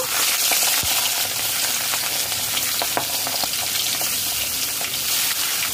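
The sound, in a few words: fish frying in mustard oil in a wok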